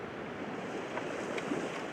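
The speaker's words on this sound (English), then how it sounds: "You can hear the water. We're right at the edge of the ocean." Ocean water washes steadily at the edge of the shore at sunrise in Belhaven, a continuous soft hiss of surf with light wind, alone and fairly faint.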